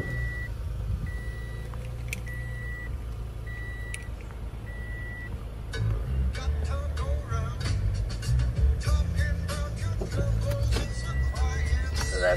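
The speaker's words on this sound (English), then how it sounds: "let me crank the vehicle for you" A 2017 Toyota Sienna SE minivan being started: the engine turns over and settles into a low, steady idle after several seconds of interior chimes and beeps, with faint talk underneath.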